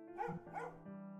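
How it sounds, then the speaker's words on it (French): A domestic dog in a video game gives two quick barks, then a short whine, fairly faint and clean with no talk over them. "Oh, alors c'était un chien domestique."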